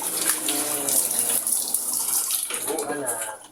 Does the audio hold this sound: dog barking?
no